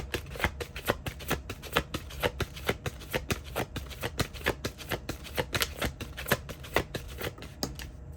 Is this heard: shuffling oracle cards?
yes